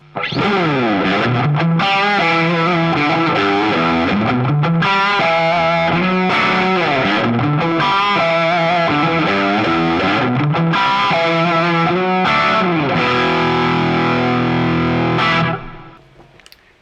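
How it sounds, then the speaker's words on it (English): Distorted electric guitar chords through a Fender Mirror Image Delay pedal ring out thickly with a short, doubling slapback echo and a wavering, modulated shimmer, played loudly and continuously before trailing off. "It's kind of like a really short slapback type delay again."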